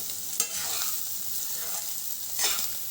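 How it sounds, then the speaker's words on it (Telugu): Carrots fry in a pan over a medium flame, a steady close sizzle with two brief louder scraping stirs near the start and end. "ఫ్రై చేసేటప్పుడు మీడియం ఫ్లేమ్లో పెట్టుకొని ఫ్రై చేసుకుంటే క్యారెట్ అడుగంటకుండా అంటే మాడకుండా ఉంటుంది."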